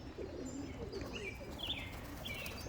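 Pigeons coo softly at a backyard loft, low warbling calls running continuously with a few higher chirps from other birds over a steady outdoor background.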